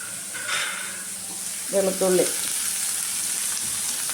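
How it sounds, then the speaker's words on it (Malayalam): Onion, tomato and garlic sauté in a pan, a steady sizzle underneath with a few brief tonal sounds and light stirring. "ഇതെല്ലാം കൂടി നല്ലതായിട്ട് വഴറ്റിയെടുക്കണം."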